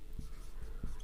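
A pen writes out geometry notes during a maths lesson on triangles, leaving soft, short scratching strokes that come in a few brief bursts across a quiet second, with no speech.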